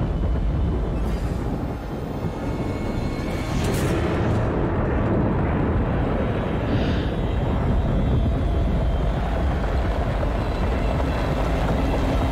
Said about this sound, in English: That's one hell of an explosion.